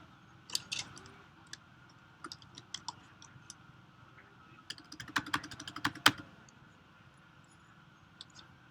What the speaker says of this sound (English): They're going to type the questions in. Yeah, we'll type the question in here.